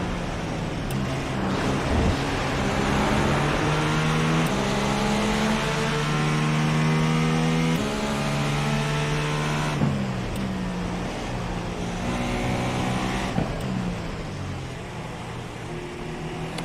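A GTE race car engine in the iRacing simulator at Road Atlanta roars loudly and continuously, its pitch climbing and dropping through repeated gear shifts and lifts for about seventeen seconds, with no talking.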